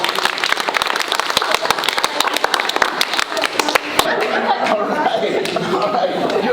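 Middle school students clapping their hands at an assembly, a run of sharp, uneven claps from a crowd that gives way to chatter and laughter in the hall.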